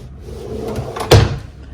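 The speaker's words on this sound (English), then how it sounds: "You have some drawers here" Drawer in a hotel room being worked: faint sliding rustle, then one firm thump as it shuts, close by in a quiet room.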